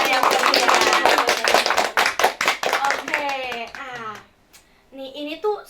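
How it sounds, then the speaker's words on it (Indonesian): Students at an SMK Negeri 1 Banjar school gathering clap for the student council president, a burst of hand claps mixed with voices and cheering that fades out, followed by a short stretch of speech. "Beri tepuk tangan yang meriah."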